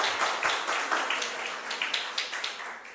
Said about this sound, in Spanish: Entonces otro fuerte aplauso para las dos.